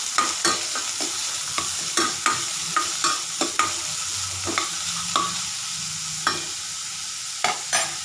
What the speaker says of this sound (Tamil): வெங்காயம் கொஞ்சம் லைட்டாக வதங்கினதுக்கப்புறம்